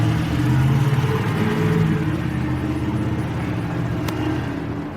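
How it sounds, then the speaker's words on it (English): A Dawn Mud Construction truck speeds off, its engine a steady, fairly loud rumble that holds and slowly fades, alone without voices. "the truck speeds off in a hurry"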